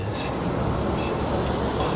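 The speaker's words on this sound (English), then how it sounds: "So while the train is coming in, the bus is coming in, and the bus is going out." Orange line train pulling into its last-stop station, a steady loud rumble of rail noise with faint higher squeals, with buses moving nearby.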